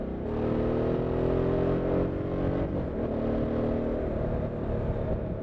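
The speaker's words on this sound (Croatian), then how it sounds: "Prelepo se vozi motor." Harley-Davidson Sportster S motorcycle riding along a road, a steady loud engine drone with rumbling harmonics that dips briefly and then continues, with no talking.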